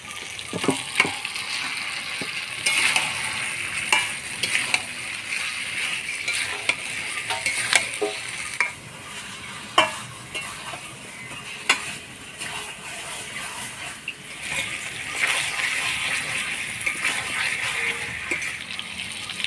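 Marinated meat, seasoned with a little sugar, sizzles in oil in a pan while being stirred, with steady frying hiss and scattered scraping clicks of the spatula throughout, close and fairly loud with no talk.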